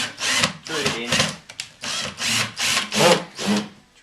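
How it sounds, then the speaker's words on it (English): A power drill drives a screw into a drawer runner to bore a pilot hole, with the bracket removed. It gives several short, loud whirring bursts in a steady rhythm, close by, with brief gaps between them. "I tend to do like a pilot hole using the screw with the bracket not in place. Drill it in,"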